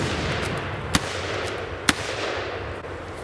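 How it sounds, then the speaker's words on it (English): Two sharp rifle reports from a Lee-Enfield fired at close quarters, about a second apart, over steady outdoor background noise. "Here, we see the use of the late war close quarter shooting technique."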